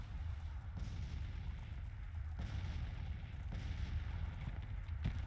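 Troops firing in the Grand Tactician strategy game during the Union campaign's Battle of Bolivar: a few distant musket volleys thump out at irregular intervals over a constant low battlefield rumble, with no voices.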